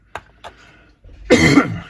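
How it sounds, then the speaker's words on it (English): Two small throat-clearing sounds are followed by one harsh, close cough. "that's a bit of a cough crept up on me"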